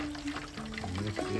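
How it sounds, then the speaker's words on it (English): Hot peanut oil dripping from a deep-fried turkey held over the pot, a steady sizzle and trickle running continuously at close range with no talk. "And you can hear and see the sizzly drip right now."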